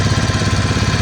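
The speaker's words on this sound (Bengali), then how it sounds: "পিছনে জেনারেটরের আওয়াজটা হচ্ছে, মানে যেটা দিয়ে বোটটা চলে" Close, loud and steady, the boat's generator engine chugs in a fast, even low rumble out on Chilika Lake, with no voices.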